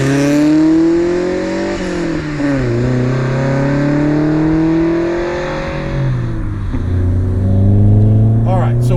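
A 1988 BMW E30 M3 in mint condition, heard from inside while driving, its engine rising in pitch through the gears with loud revving climbs and brief dips at shifts, steady and close.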